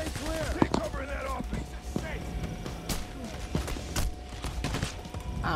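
Rapid gunfire bursts rattle through a firefight in PAYDAY: The Heist, with sharp overlapping shots and clatter coming in irregular volleys throughout, mixed with game noise and a voice.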